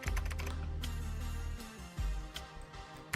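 Computer keyboard being typed on to enter a value, a quick run of close clicking keystrokes followed by a few scattered presses, with no talking.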